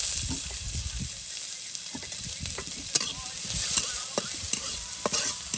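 Bottle gourd fries in oil with a bright, continuous sizzle while a spoon stirs and clacks against the pan in irregular taps, close up and without talk.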